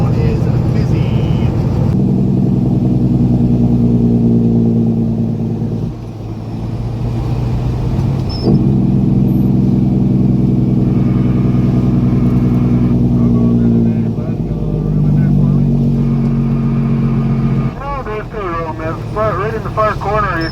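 Traffic on a busy road in snowy, blowy weather over wet pavement, a continuous loud engine drone with vehicles passing close by, under near-constant talk.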